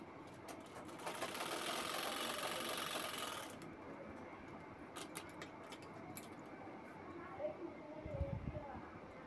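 A sewing machine stitches the sides of a handbag in one run of a couple of seconds of steady whirring, followed by quieter handling noises and faint background sounds.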